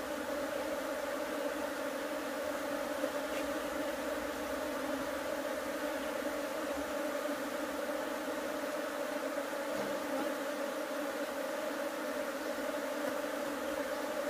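Honeybees at an open hive drone in a steady, continuous hum while brood frames are shaken out during a colony split. The buzzing stays faint and even throughout, with no voices.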